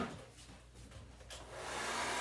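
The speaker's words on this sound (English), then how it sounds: "now I'm going to take my blow dryer. It's going to get loud for a second." A blow dryer on its cold setting pushing wet paint during acrylic pour painting: a rising, fairly close whooshing airflow that swells and holds steady toward the end.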